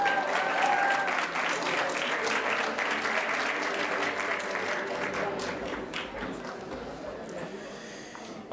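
Applause at a graduation ceremony: a dense, steady crowd of clapping hands fills the whole stretch, easing slightly toward the end, with no speech over it.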